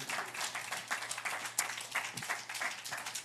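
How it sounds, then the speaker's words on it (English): A church congregation applauding during a sermon, a dense, steady wash of many hands clapping together for a few seconds, filling the room at fairly close range. "I love it when you guys clap"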